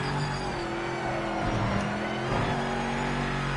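A GT3 race car in a racing game sweeps past, its steady droning engine note rising and falling in pitch as it goes by, loud and continuous with no talking.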